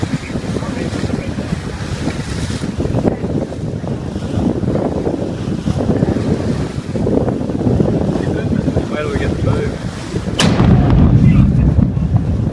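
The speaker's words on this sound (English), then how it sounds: "this volcano exploded in Papua New Guinea and it created a huge shockwave" Volcanic eruption in Papua New Guinea sends a shockwave as a loud, rumbling roar with wind buffeting the microphone, ending in a sharp sudden blast near the end.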